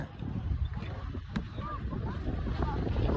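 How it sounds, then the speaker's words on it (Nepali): Strong gusting storm wind in Mirik buffeting the microphone in a steady roar, with faint background sounds underneath. "सिक्किममा जस्तो हावा चाहिँ अब यता सुरु हुने"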